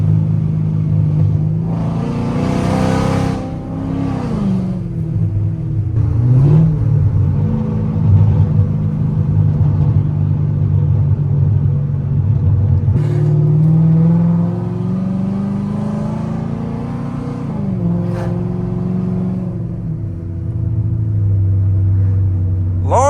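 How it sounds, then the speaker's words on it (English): A 5.7L HEMI V8 fitted with long tube headers revs loudly and close, its deep rumbling exhaust rising and falling through several sustained throttle swells with no talk. "Long tube headers don't just change how loud the vehicle is, it completely changes the tone of the vehicle."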